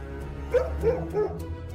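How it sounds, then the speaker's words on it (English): A dog in the horror video game Dead by Daylight barks three times in quick, fairly close yips over a low, steady ambient game drone. "she heard a sound that froze her heart, a familiar bark"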